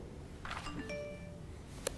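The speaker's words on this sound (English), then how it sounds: "That bell means it's time" A bell chimes once in a council chamber to signal that the meeting is moving on, its ringing tone fading away over the room's quiet, with a short sharp click near the end.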